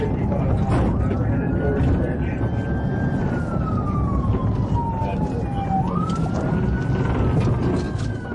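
Police car siren during an Arkansas police chase, a loud wailing siren sweeping up and down continuously over heavy engine and road noise, with speech present.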